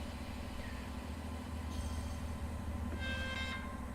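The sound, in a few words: air compressor on a train in Train Sim World 3 video game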